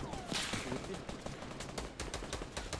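Rapid gunfire from a video game battle royale match, repeated shots and bursts running continuously over dense game noise, with players' voices faintly under the action.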